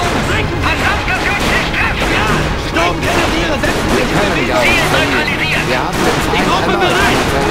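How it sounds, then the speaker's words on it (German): Gunfire and explosions from the WWII tank game Panzer Elite fill the mix, a dense, continuous barrage of shots and booms under game voices and a steady battle rumble. "Vorsicht! Sie schießen auf uns!"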